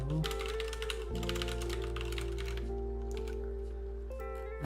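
Typing code on a computer keyboard during C++ shader compiler programming, a steady run of soft key taps over a constant low electronic hum, with no talking.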